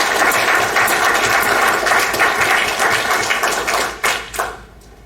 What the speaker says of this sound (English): could you give a huge round of applause?